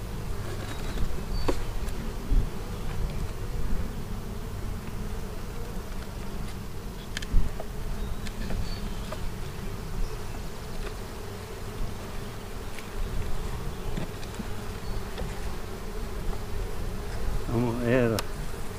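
Honey bees buzzing densely in and around a hive box during an inspection, a close, continuous droning swarm with scattered louder passes and brief knocks.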